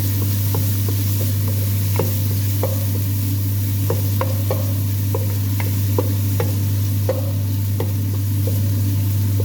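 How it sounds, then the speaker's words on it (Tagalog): Marinated pigeon sautéing with onion and garlic in a pan: soft sizzle under a loud, constant low hum, with scattered light clicks and taps of a utensil against the pan at an irregular rhythm. "Ako sana siyang igisa sa sibuyas ug ahos guys."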